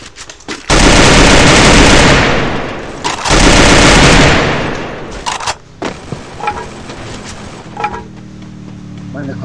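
Scar and MP5 gunfire in the video game Free Fire: two long, loud automatic bursts are followed by scattered single shots and fainter distant pops.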